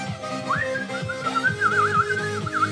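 A person whistles a rising, warbling tune that imitates an animal or bird call, with trills and wavering notes, close and clear over faint background noise.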